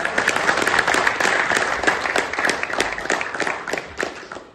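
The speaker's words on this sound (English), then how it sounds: "Can we have a round of applause for that?" A university student audience in Warwick applauds a political leader, many hands clapping together in a dense, steady round that runs throughout at close range.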